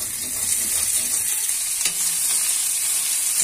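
Chopped onions drop into hot oil and sizzle in a loud, steady hiss that fills the whole moment without a break.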